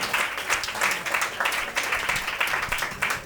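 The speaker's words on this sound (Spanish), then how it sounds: "un aplauso para Manolo del bombo" Applause for Manolo del bombo, a drummer, comes from a studio audience as a dense, even stretch of clapping, close and fairly loud, with no voices over it.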